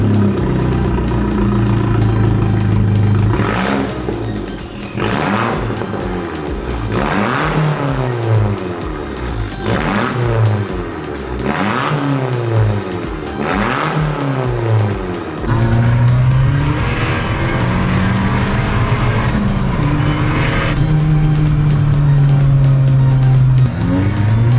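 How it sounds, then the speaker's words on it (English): Abarth 595 Stage 2 with a decat pipe, engine revved repeatedly: loud rising and falling rasping sweeps, several sharp blips in a row, then a steady higher drone, close to the car. "Now we're going to start it up, show you what it sounds like with the Decap pipe on"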